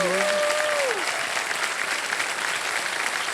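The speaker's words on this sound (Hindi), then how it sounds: "मान्यवर ताली बजती रहे इनके लिए" Sustained studio audience applause on the KBC quiz show stage, a dense steady wash of clapping, with a voice trailing off over the first second.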